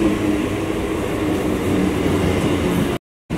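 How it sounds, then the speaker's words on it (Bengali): Naihati local train pulling into a platform, a loud continuous rumble and clatter of carriages close by, cutting off abruptly near the end. "এই ঢুকলো আমাদের নৈহাটি লোকাল।"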